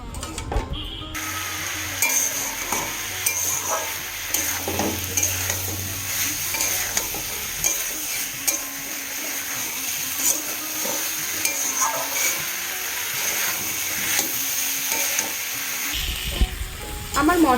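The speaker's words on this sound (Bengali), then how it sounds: "অল্প পরিমাণে জল দিয়ে মশলাটাকে ভালো করে কষে নেব, যাতে মশলা থেকে কাঁচা গন্ধটা চলে যায়" Spice paste with a little water fries in oil for a vegetarian cabbage dish, a steady close sizzle under regular scraping and stirring strokes, with faint voices in the background.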